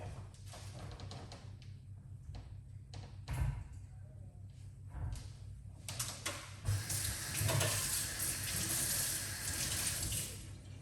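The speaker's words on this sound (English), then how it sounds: "So we wash off the avocado." Running tap water pours over an avocado being rinsed at a sink, a steady splashing wash that swells louder and fuller in the second half, with a couple of soft thumps along the way.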